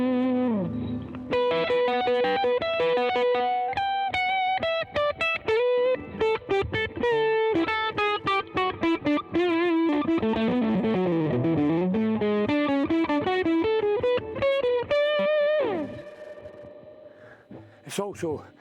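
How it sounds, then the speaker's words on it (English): A heavily distorted electric guitar through a Line 6 Helix with boost engaged plays a fast run of notes up close, ending on a sustained ringing note before a brief fade. "I'll put the boost switch up a bit and let you hear how much difference"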